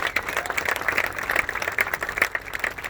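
Applause from a ceremony audience honoring a ceremonial unit team, a steady, moderately distant wash of many hands clapping that holds evenly for about three seconds with no voices on top.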